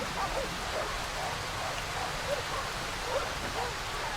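Rain in the survival horror video game Darkwood, a steady dense patter that goes on unbroken without gaps, with a faint voice murmuring low beneath it.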